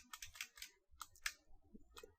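Quick bursts of keystrokes on a computer keyboard while entering commands into a Metasploit msfconsole terminal, close and fairly quiet, in two clusters separated by a short pause, with no talking.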